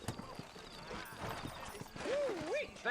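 Horses clip-clop at a walk in Red Dead Redemption on PS3, with steady hoof beats close by under speech and a brief whinny near the end.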